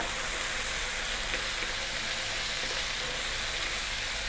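Garlic, ginger and sliced onions fry over high heat in hot oil, giving a steady, loud, close sizzle with no pauses and no voices.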